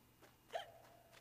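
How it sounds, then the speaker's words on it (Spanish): Alice, the character in Alice: Madness Returns, gives one short, faint hiccup partway through. A few soft breathy sounds come before and after it against a quiet background. "parece que le da ahí un hipo"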